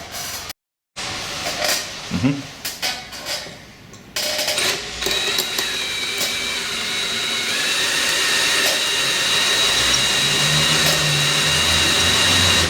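A power drill with a drill bit works on snapped-off exhaust studs, opening with a few short bursts before settling into a steady, loud, rising whine that runs on without pause.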